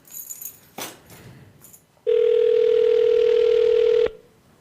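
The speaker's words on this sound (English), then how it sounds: "We're calling John Sinsel" Outgoing telephone call on a radio show, with a single long ring tone held for about two seconds after some brief background noise, close and clear.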